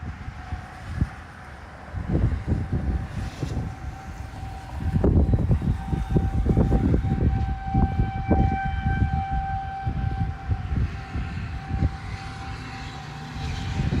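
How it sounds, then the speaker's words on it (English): Tornado sirens wail in the distance during an Easter tornado outbreak in Missouri, their steady tone carried over heavy wind gusts and low rumbling, with no voices. "you guys hear tornado sirens going off."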